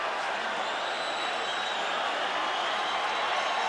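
A largely Latino boxing crowd roars steadily after Juan Manuel Marquez's win over Joel Casamayor, a dense, continuous wash of cheering and applause filling the arena with no single voice standing out.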